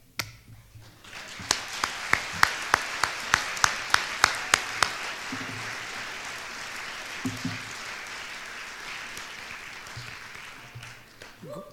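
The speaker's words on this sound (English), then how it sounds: "How about a big round of applause for all 6 of the contestants tonight?" An audience at an innovation awards ceremony claps together, with a few sharp, rhythmic claps over a sustained wash of applause that slowly thins out.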